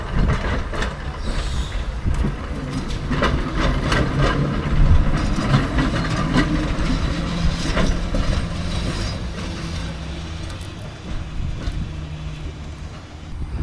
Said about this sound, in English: I think they call them a toast rack tram